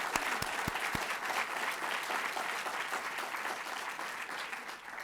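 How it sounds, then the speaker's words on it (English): Round of applause from the audience at a U.S. Department of Labor induction ceremony honoring Chinese railroad workers, a sustained even wash of clapping with a few low thumps near the start, fading slightly toward the end. "So let's give them a round of applause as well."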